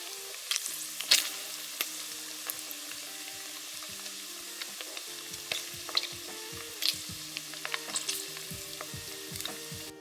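Guanciale fries in a pan and renders its fat, giving a steady sizzle scattered with sharp pops and crackles that stays close and even throughout, with no voices over it.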